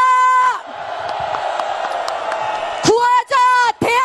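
A large crowd at a Korean political rally roars and cheers together in a loud, sustained swell, with voices whooping and yelling over the top.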